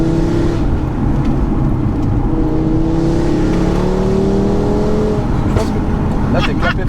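Audi RS3 8P with a 420 hp five-cylinder engine, heard from inside the car: a loud continuous engine drone climbing in pitch under acceleration, with a few sharp exhaust pops near the end, as someone talks over it.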